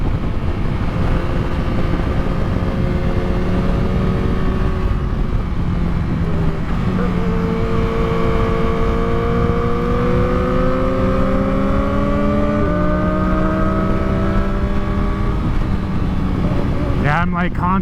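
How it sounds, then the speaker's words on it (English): Yamaha motorcycle engine on a mountain ride near Big Bear, held in a steady drone whose pitch slowly climbs and eases as the throttle is worked, never reaching high revs, with constant wind rush throughout. "Man, I hate that I can't rev this bike high."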